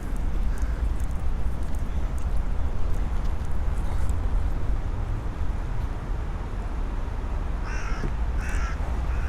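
Crows cawing repeatedly around a Pushkin monument in a Belgrade neighbourhood, their calls scattered over steady outdoor city rumble, a few clearer caws standing out near the end.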